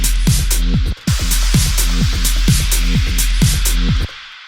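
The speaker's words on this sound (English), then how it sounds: "Something I would do maybe is a hugely compressed reverb on it." A crash effect through a heavily compressed reverb: a dense crash-like wash with pumping rhythmic hits repeating steadily, loud and sustained before stopping abruptly.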